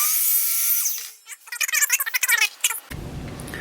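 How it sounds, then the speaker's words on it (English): A chop saw cuts through a piece of pipe for a homemade spinning ice fishing rod: a loud whining spin-up, then a rapid series of harsh grinding bursts as the blade bites, ending in a low rumble. "that'll let us hold this while we cut it on the chop saw"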